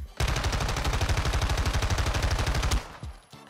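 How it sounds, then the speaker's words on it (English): Rapid automatic fire from an MX9 submachine gun shooting heart tracer rounds in Modern Warfare 2: a dense, steady burst of close, loud shots lasting nearly three seconds, then cutting off. "You actually shoot freaking heart tracer rounds"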